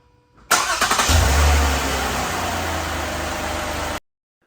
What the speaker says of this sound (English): So let's start our car.